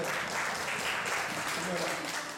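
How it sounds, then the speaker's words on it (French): Audience applause greets a French cosmonaut at a book and arts fair, a dense steady wash of clapping from a crowd filling the whole moment, with voices mixed in beneath. "On applaudit le cosmonaute français."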